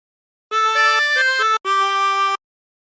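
Two sustained reedy phrases of a melody on a 24-hole tremolo harmonica, played close and loud with a wavering shimmer, split by a brief gap and followed by silence.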